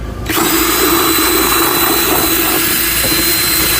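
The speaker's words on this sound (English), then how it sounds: "You just attach it to the end of your drill, and you just put this inside here" A power drill with a paint mixer attachment spins up abruptly and runs at a steady high-pitched whine, with a churning, swishing undertone from a liquid fertilizer blend containing molasses and sea kelp being stirred.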